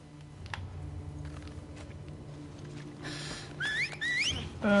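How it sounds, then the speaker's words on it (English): An enemy character whistles in The Last of Us Part II, a short two-note melodic whistle repeated a couple of times near the end, clear over quiet game ambience and faint clicks. "Why was he whistling?"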